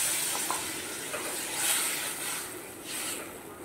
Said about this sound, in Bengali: এবারে দিয়ে দিলাম গরম জল,